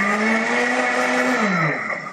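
Food processor whirring as it blends pineapple filling with a little water, a loud steady motor whine that runs evenly and then drops in pitch as it slows near the end.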